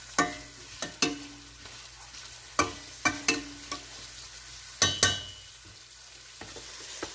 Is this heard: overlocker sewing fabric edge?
no